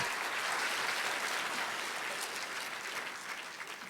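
Sustained applause from a church audience at a Korean revival festival, many hands clapping in a dense, even roar that stays strong and then eases off slightly toward the end.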